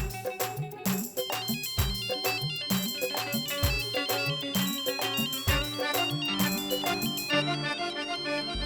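A melodic phone ringtone plays continuously, a repeating electronic tune with steady beats, fairly clear and uninterrupted by speech.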